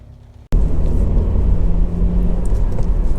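Honda CR-Z 1.5 GT hybrid three-door on a road test, its engine and road noise rising abruptly into a steady loud rumble that holds throughout, without speech.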